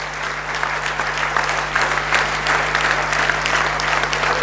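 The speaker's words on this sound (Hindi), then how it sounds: "जोरदार ताली बजना चाहिए" Loud, steady audience applause fills a hall during a motivational seminar, a dense wash of many hands clapping together with a low hum running underneath throughout.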